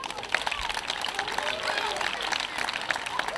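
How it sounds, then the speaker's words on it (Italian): Applause for children who performed Abruzzese dialect songs and a quadrille at a Festa del Contadino in Monte Marcone di Atessa, a steady crowd clapping with voices mixed through it. "Un applauso a questi bambini"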